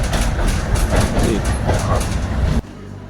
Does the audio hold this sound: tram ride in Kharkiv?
yes